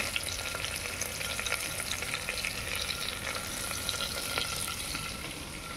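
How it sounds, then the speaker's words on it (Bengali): Large chunks of onion frying in a pan with other ingredients, a steady, close crackling sizzle that holds evenly throughout with no voices. "একটু বড় বড় করে কেটে পেঁয়াজটাও দিয়ে দিলাম, দিয়ে একসঙ্গে এটা ভেজে নেব"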